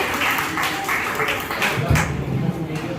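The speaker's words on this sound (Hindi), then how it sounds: "एक बार जोरदार ताली हो जाए आज के हमारे कैमरामैन के लिए, आनंद के लिए।" An audience at an institute's annual culture fest and anniversary celebration claps steadily and fairly loudly for the cameraman, a dense, sustained patter of hands filling the room while a voice carries over it.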